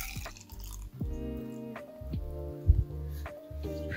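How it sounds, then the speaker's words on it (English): Water pours from a bottle into a baby's sippy cup in short, close splashy bursts, with the pitch rising as the cup fills. "I actually have a bottle of water that I'm going to pour into here"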